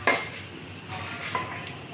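Metal pan and spoon clatter while mango chutney is scraped into a bowl: a sharp clank at the start, then a few lighter scrapes and taps, close and moderately loud.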